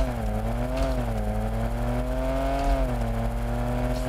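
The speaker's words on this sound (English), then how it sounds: "the car uh, really doesn't sound like it likes shifting" A Honda HSV-010 racing car engine in a video game drones loudly and steadily, its pitch dipping and rising slightly as it shifts gears, with no voices.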